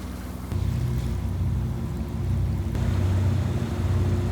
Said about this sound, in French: Ça c'est un bateau dragueur.